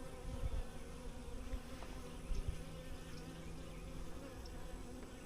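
Honey bees hum in a hive, with capped brood visible, a soft continuous buzz with individual bees drifting close and away, fairly quiet and without speech.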